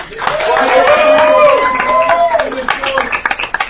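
Crowd applause at a local sports event rises into steady clapping, then thins to scattered claps, with talk mixed in.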